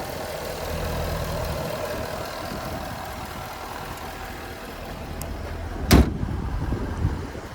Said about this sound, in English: So there's that 5-liter supercharged V8.